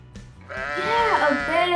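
Voices imitate a sheep, a drawn-out wavering bleat that rises and falls, with children's voices blending near the microphone.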